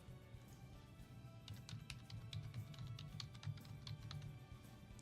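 Quiet, rapid typing on a computer keyboard into a command line, a few seconds of soft, irregular key taps with no talking.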